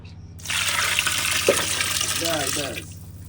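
Gravy for a tender mutton biryani pours and splashes onto the rice in a steady liquid gush lasting a few seconds, close by, with a voice murmuring faintly underneath.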